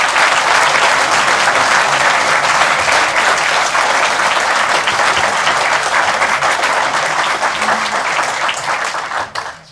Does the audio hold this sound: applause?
yes